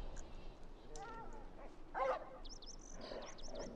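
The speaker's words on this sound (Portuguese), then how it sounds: "Os cachorros lá atrás." Dogs barking in The Last of Us video game, a few distant yips and barks in the background, with a faint voice.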